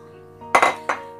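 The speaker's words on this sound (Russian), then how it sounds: "Теперь высыпаем все сухофрукты." Dried fruit tips into a bowl of rich Easter kulich dough, giving a few quick, close clinks and rattles against the bowl in two short bursts.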